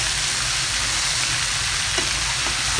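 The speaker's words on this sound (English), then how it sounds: "So you stir fry" Onions stir-frying in a flat wok give a steady, close sizzle with a few faint scraping stirs, no voices over it.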